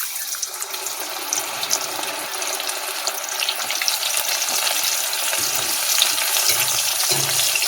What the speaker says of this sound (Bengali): ছোলার ডালগুলো তুলে নেব, দিয়ে এবার আমি তেলের মধ্যে দিয়ে দেবো